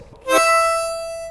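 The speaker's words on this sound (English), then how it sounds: "Then you go to five blow," A single harmonica five-blow note sounds after a short pause, bright and reedy, with a quick attack that rings steadily and slowly fades.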